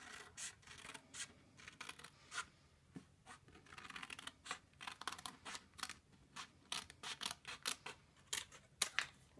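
Scissors trim card stock for a handmade Valentine card, a close run of quick crisp snips and paper rustles, speeding up toward the end, with no voices.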